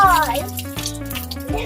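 Greens being washed under a running tap, heard as a close, steady splash of water that carries on alongside a voice.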